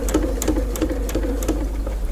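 A sewing machine stitches a project bag around a corner with a close, steady rhythmic chatter of needle strokes at about three per second over a low motor hum.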